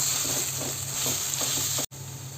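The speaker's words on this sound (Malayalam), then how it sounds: "നമുക്ക് ഈ മസാല ഇതുമായിട്ട് മിക്സ് ചെയ്ത് കൊടുക്കാം എന്നിട്ട് നന്നായിട്ടൊന്ന് ഇളക്കി യോജിപ്പിച്ച് കൊടുക്കുക" Masala is stirred into frying onions in a pan for crab roast, a close, continuous sizzle broken by soft rhythmic stirring scrapes, with a brief dropout near the end.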